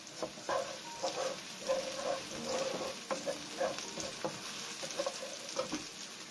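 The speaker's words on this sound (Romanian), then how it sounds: "lăsăm 10 secunde ceapa și usturoiul să se prăjească" Onion and garlic frying in a pan for an Asian-style chicken and vegetable dish, a soft crackling sizzle with stirring scrapes and light patter, fairly quiet and without talk.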